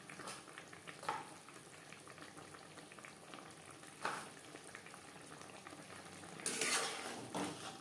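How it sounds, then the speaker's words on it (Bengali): Tangra fish with brinjal simmers in gravy, bubbling steadily in a pot, quiet and close. Occasional louder stirs and scrapes of a utensil against the pan break through. "গ্রেভির সাথে মাছ আরও 3-4 মিনিট রান্না করব"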